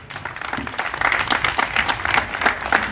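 An outdoor commemoration crowd in Pointe-à-Pitre claps for a group of students, a steady burst of scattered applause that swells after the first second and carries on throughout.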